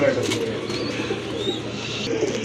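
Bright red desi Bombay pigeons coo nearby in low, throaty, continuous murmurs, with a voice talking over them.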